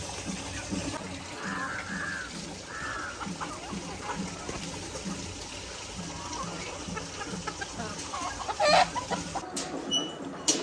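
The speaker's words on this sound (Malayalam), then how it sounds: "നമ്മുടെ കോഴിക്കുട്ടന്മാർക്ക് തീറ്റ കൊടുക്കാൻ നമ്മളിവിടെ വന്നേ പറ്റും" Backyard hens clucking in a steady chorus while waiting for feed, close and continuous, with a louder flurry near the end and faint sounds from the surroundings.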